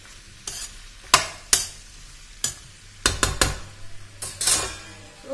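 Ivy gourd and onion curry stirred in a pan, with a spoon scraping and knocking against the metal in separate sharp strokes over a faint background sizzle, no speech.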